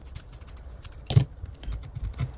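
Scissors snip wool felt on a needle-felted American Cocker Spaniel figure, giving a few soft, close, dry cuts with one sharper snip in the middle and no talk.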